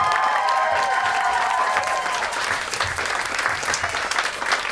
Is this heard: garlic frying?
no